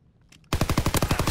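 Rapid automatic gunfire in Call of Duty WW2 free-for-all multiplayer, a loud burst of about ten evenly spaced shots after a quiet start.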